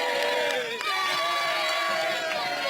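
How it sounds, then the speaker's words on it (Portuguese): Fluminense supporters at Laranjeiras stadium sing together in a loud, sustained crowd chant that fills the whole clip, with cheering mixed into the continuous wall of voices. "Tem bandeirão, a torcida cantando e a vitória do Fluminense"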